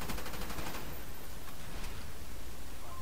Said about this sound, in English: There's Daver, down, headshot.